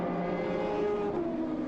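A BMW race car engine at the 1999 Le Mans 24 Hours holds a steady, sustained high-revving drone with a slight pitch shift as it passes, fairly loud and continuous, with no talking over it.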